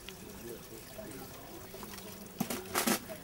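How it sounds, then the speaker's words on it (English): Water poured off soaked parboiled paddy rice in a container, a soft trickle and splash that grows louder near the end, with some bright bursts of pouring. "Now drain off half the water."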